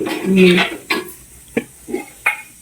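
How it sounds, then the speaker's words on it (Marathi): Steel dishes and utensils clatter in a home kitchen, starting with a short rattle and followed by several separate clinks spaced about half a second apart. A brief voice is heard at the start. "लय भांडी आवाज नाही करायचा"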